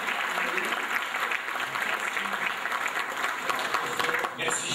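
Sustained audience applause at an award and tribute ceremony as Professor Edgar Morin is introduced, thick, continuous clapping filling the room and lasting several seconds.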